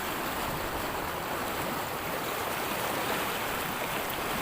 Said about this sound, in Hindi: धड़म धड़म धड़म पानी चल रहा है